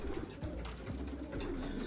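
Pigeons coo softly and repeatedly inside a pigeon loft, with low burbling calls layered over a steady background hum.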